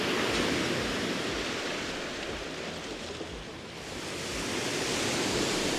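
Ocean waves washing in steadily as a broad, continuous roar of surf, swelling slightly and easing mid-way, close and fairly loud with no talking.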